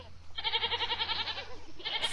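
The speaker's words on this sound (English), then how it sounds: "Stupid goats, why are they doing that?" Goats bleat close by in a quick, wavering call of rapid pulses lasting over a second, followed by the start of another bleat.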